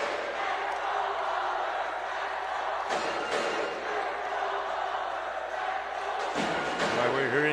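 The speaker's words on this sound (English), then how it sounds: "JRU cheering squad. Their band is also here" JRU cheering squad and band filling a basketball arena at a semifinal game, a loud continuous crowd roar with drumming and chants, commentary voices mixed in.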